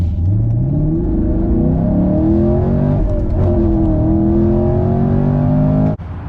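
A Camaro SS 1LE V8 revs up loudly, its deep engine note climbing and swelling in pitch over several seconds before cutting off abruptly near the end.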